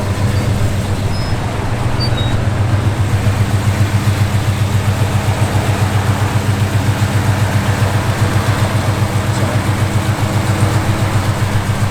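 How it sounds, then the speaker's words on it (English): A 1965 Chevrolet Impala's engine runs steadily at idle, a deep rumbling throb with an even, lopsided pulse, loud and close throughout with no voices. "Man, that car sounds mean, boy."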